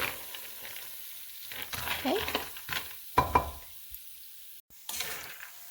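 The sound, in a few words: peanuts roasting in vegetable oil in a pan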